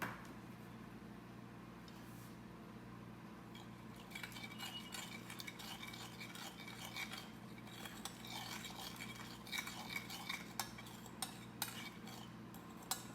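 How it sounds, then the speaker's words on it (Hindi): Vegetable salad being mixed in a bowl, soft clinks and scraping of a utensil against the dish, quiet at first then a steady run of light clattering taps, with no talking. "इसको अच्छी तरह से मिला के"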